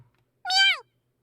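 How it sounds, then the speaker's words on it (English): A single short, high kitten meow rising then falling, clear and close against near silence. "A very familiar meow."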